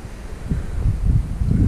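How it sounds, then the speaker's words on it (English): Strong wind on a hot afternoon at a shipping container site, gusting and buffeting the microphone with low rumbling swells that build toward the end, loud and close with no voices. "It's pretty hot. It's about 88 degrees, and it's very windy right now."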